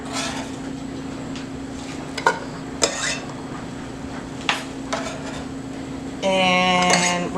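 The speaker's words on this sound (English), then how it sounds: "I hear the sizzle. It's starting to sizzle up." Diced yellow onion sizzles in olive oil in a pot, a steady soft frying hiss beneath a low hum, punctuated by a few sharp clinks of utensils against the pot and a louder clattering burst near the end.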